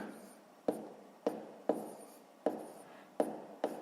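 A pen scratches out a sixth-grade maths solution on paper, six quiet, separate strokes spaced about half a second apart, each a short close scrape fading quickly.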